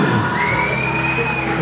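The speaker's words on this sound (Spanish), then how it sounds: "Sí, un aplauso." Audience at a Bee Gees tribute show in Chile cheering and applauding, a steady loud crowd roar with whoops, no speech over it.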